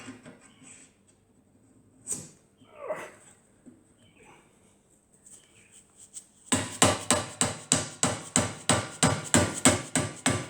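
Hammer tapping a part into place during a Land Rover restoration, about a dozen sharp metallic blows in a steady rapid rhythm in the second half, after a quieter stretch of faint handling noises.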